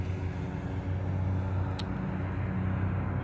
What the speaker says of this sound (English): that is a helicopter that keeps coming back and forth